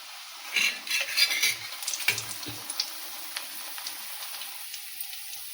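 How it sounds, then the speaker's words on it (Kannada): Pieces of anarasa, a sweet dough coated in poppy seeds, go into hot oil, and a brief close sizzle and bubbling follows with a utensil clinking against the pan. The frying settles to a quieter crackle and nobody speaks. "ಈಗ ಎಣ್ಣೆಗೆ ಬಿಡ್ತೀನಿ ನೋಡ್ರಿ."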